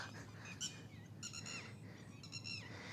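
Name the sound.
flock of migratory birds taking flight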